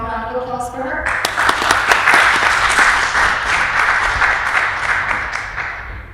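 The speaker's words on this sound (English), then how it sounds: "Let's have a warm round of applause for her." Warm applause from a seminar audience welcoming a guest speaker, a dense burst of clapping beginning after a second of a voice and continuing steadily to the end.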